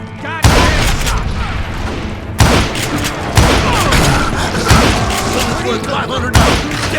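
Heavy gunshots in Call of Juarez Gunslinger, loud booming blasts at irregular intervals over a continuous din of distant firing and echoing impacts, with voices in the mix.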